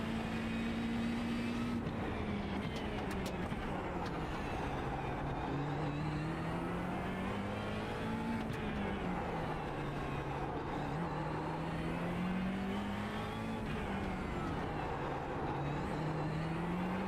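GT3 race car lapping Adelaide in the iRacing sim on cold tires, its engine droning steadily throughout with pitch rising and falling through gear changes and corners, loud and close with no talk.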